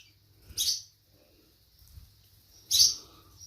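A wild bird inside an abandoned house gives two sharp, high chirps a couple of seconds apart, close and clear against near silence.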